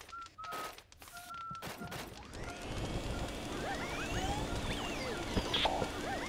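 Fire attack blasting in the Luigi's Mansion video game, a busy run of crackling bursts, whooshes and chirping game effects over about six seconds, fairly loud and continuous with no talk.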